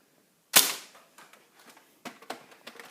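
A Nerf N-Strike Raider CS-35 foam blaster fires once with a sharp, loud snap, followed by softer clicks and rattles of the mechanism being handled.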